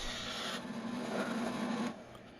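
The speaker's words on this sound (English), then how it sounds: "Here I'm using a rough and gouge to true this up, and increasing the speed intermittently to keep the vibration down." A wood lathe spins a blank while a roughing gouge trues it round, giving a steady, close scraping hiss with a low motor hum; the cutting noise drops away near the end, leaving the motor running.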